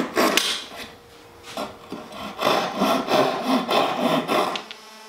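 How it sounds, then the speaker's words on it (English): A handsaw cutting off protruding wooden dowels, a close, rhythmic rasp of repeated strokes with short pauses, no talking. "We're going to go and cut these excess dowels off."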